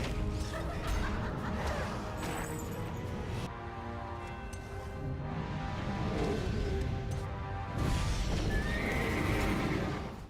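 Inferno horses in the fantasy strategy game Heroes 5 whinnying loudly over game music, with clip-clopping hooves and a second neigh near the end.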